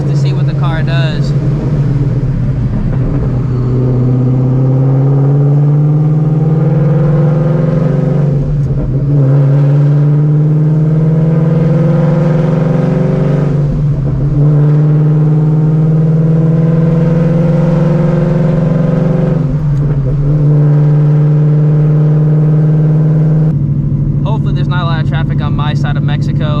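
A supercharged Shelby GT350 V8 roars through a hard third-gear pull, its pitch climbing steadily in three loud rising sweeps split by brief shift dips, with supercharger whine overhead and a sharp lift-off near the end.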